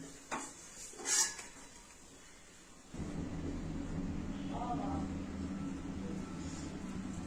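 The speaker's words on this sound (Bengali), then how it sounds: "গোটা জিরে ফোড়ন দিলাম, একটু তেজপাতা আর শুকনো লঙ্কা দিয়ে দিলাম।" Whole cumin, bay leaf and dried chillies drop into hot oil, starting a steady close sizzle that runs continuously after a few quiet clinks and knocks.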